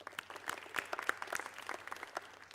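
A youth TEDx audience gives a round of applause, with loose, uneven clapping that rises and falls. A few sharp individual claps stand out near the front of the hall.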